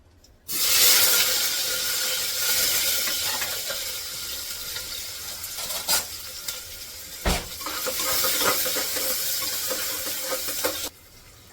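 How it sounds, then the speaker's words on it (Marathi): Onions and tomatoes sauté in hot oil for chana masala, a loud, steady hiss that starts abruptly, runs close for about ten seconds with a few stirring scrapes, then cuts off. "कांदा परतलाय, टमाटा पण परतून घेते."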